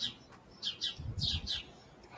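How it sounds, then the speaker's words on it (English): Birds chirp in short repeated high bursts through the background, with a low rumble of handling noise partway through. "I just love all the birds chirping in the background."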